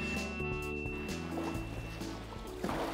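Steady rushing and sloshing of huge, rough waves against a moving rescue boat, a continuous loud churn with low engine drone underneath and a splash near the end.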